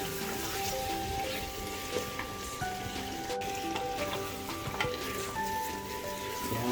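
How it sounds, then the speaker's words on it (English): Mutton for Kashmiri rogan josh fries in a pan on high flame while being stirred continuously, giving a steady, close sizzle with scattered crackles and no talking. "I'm going to just fry it for another couple of more minutes"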